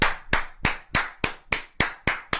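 A church congregation clapping together in praise of the Lord: eight sharp, evenly spaced claps in a steady, brisk rhythm, loud and close, with nothing else around them.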